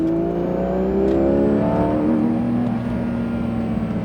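Porsche GT3 RS accelerating out of a corner at La Ferté-Gaucher race track, a loud, close engine drone with rising tonal whine and steady pull, no voices over it.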